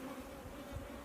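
Honey bees at a beehive hum in a steady, close, continuous drone with no voices.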